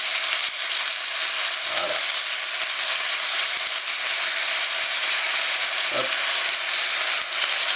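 Duck breast sizzling steadily in a pan with sauce for a longer cook, a continuous bright frying hiss throughout with a couple of soft clinks, and someone speaking briefly.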